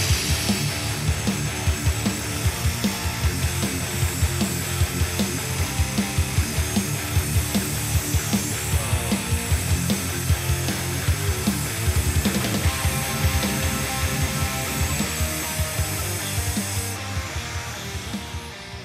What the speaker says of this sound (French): on va essayer de couper de la fonte